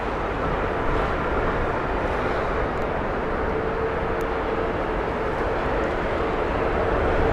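A WestJet airliner at Heathrow Airport gives a steady, distant jet roar and rumble, even in level throughout with no voices.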